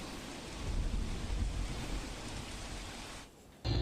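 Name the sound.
rain and thunderstorm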